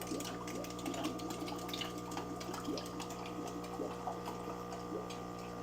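Discus fry feeding at the water surface make a soft, continuous crackling patter like cereal popping in milk, set over a steady hum of an aquarium pump throughout.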